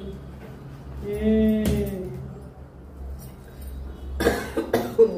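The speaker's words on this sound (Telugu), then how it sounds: "దగ్గులు వచ్చేస్తాయి, చలికాలం కదా." A few sharp coughs near the end, close by, after a quieter stretch with a faint tonal sound.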